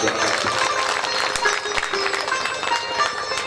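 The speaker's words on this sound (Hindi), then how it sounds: "विक्की भैया के लिए आप जोरदार ताली बजा दें" Audience clapping at a Shrimad Bhagwat Katha religious discourse, a dense, steady wash of applause that stays loud and continuous for a few seconds with no talking over it.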